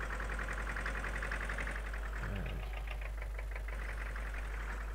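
Farm machine engine running steadily in Farming Simulator 19 on a snowy day, a continuous low idling drone with a knocking pulse and a faint higher whine, heard alone without talk.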